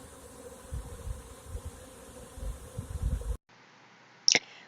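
Honey bees swarming at a modified Warre bait hive produce a soft, continuous buzzing hum, broken by a brief pause and then a short, loud buzz as one bee passes close.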